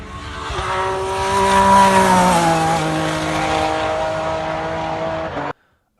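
A BMW Z3 race car, originally a 1997 2.8, drives past at speed with a loud, sustained engine note that rises and then holds steady before cutting off abruptly.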